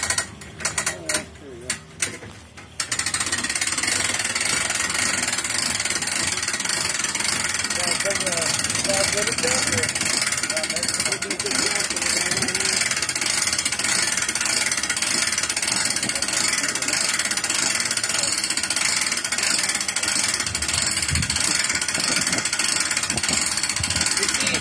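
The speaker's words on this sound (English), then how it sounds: "we just put a winch on it for him. And we're going to show, hopefully when I get this done right, it'll be dragging the boat." A trailer winch ratchets and grinds steadily as it drags a raft up onto its trailer. A few sharp clanks open the sequence, then a continuous mechanical churn holds close and loud for the rest.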